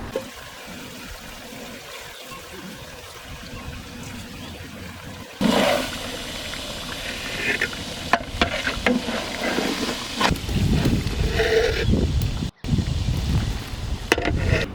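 Peanut-stuffed brinjal frying in oil at a village cooking pot, with tamarind water poured in partway: a quieter sizzle jumps to a louder, rushing hiss with trickling splashes and stirring, close and steady, no voices.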